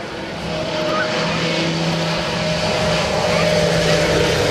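A twin turboprop C-23 Sherpa taking off at about 110 miles an hour at an air national guard open house, a loud, continuous engine and propeller roar with steady humming tones throughout, close and unbroken.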